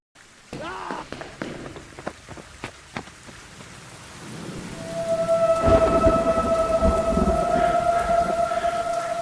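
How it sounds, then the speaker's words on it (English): A thunderstorm opens with several sharp, distant thunder cracks, then a heavy downpour swells into a dense, steady roar of rain, joined by a sustained tonal hum near the end. "a huge clap of thunder suddenly sounded outside"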